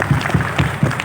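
Applause from a school audience at a Ramadhan speech contest for high school classes, brisk, rhythmic group clapping in regular bursts, fairly close and continuous.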